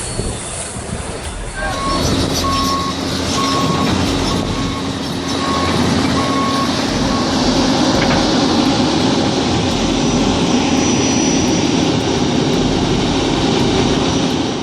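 An excavator loads itself onto a trailer to a loud, continuous diesel engine roar with heavy rumbling and clanking. A repeating reversing beep sounds for a few seconds early on, and voices may be faintly present.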